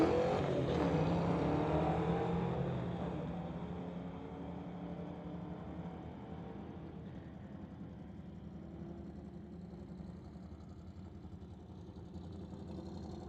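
A BMW and a Mustang street racing, a loud engine roar that rises and quickly fades into a long distant droning rumble, with no talking.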